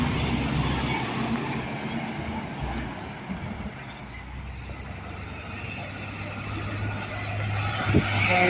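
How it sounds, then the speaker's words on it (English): A 330 bucket truck, a service truck, rolls past at a roadside, its steady low engine rumble and road noise holding throughout and swelling slightly near the end, with a brief thump late in the pass. "330 bucket truck"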